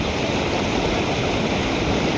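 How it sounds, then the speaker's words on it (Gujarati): Swollen Machchhu river in flood after extreme rain, its water washing away a farm road; a loud, continuous roaring rush of turbulent water fills the whole stretch, close and steady, with no voices. "રસ્તો આપણો ધોવાતો જાય. જો હાલ્યું જાય બધું. પાણી વધે છે આમાં."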